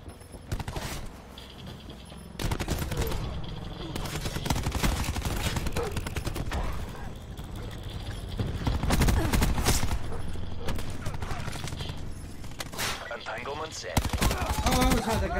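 Rapid bursts of automatic gunfire from Call of Duty Black Ops 4 crackle in loud clusters with brief pauses between volleys, close and dense, while a player talks intermittently underneath.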